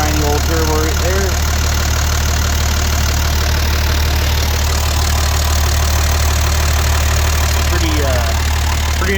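A 1986 Perkins turbo diesel in a 4x4 idles steadily, a loud constant low rumble with a faint mechanical clatter, while someone talks over it at the start and again near the end.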